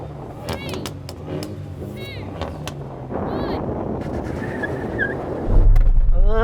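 A hot hatch launches hard at a drag race, engine roaring with front wheelspin as revs climb and a gear change thumps in, loud and close, with a voice talking over it.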